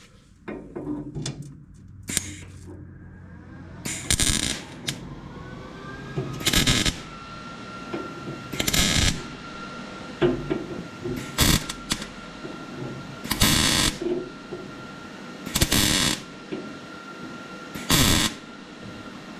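Tack welds being laid on a thin sheet metal floor pan of a Datsun 280z, roughly eight short sharp crackling bursts spaced a couple of seconds apart, close and loud, with quieter handling sounds between.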